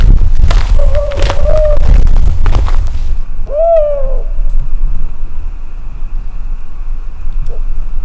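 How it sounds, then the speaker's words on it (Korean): A wild owl hoots during a wildlife playback survey. Two distinct hoots sound a few seconds apart, reasonably near, over rustling and low background noise. "야생 올빼미 울음소리가 들려옵니다."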